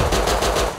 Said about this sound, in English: It was the shotgun trap, you talking!